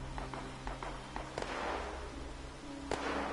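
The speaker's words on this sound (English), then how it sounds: "I hear gunshots" A few sharp gunshot-like cracks ring out at irregular intervals in Fallout 76 over a steady low game soundtrack hum, with fainter taps scattered between them.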